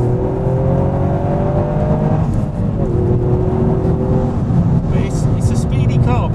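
A turbocharged Toyota GR Yaris engine revs and drones loudly throughout, with rising turbo whirring tones and a voice talking over the steady roar.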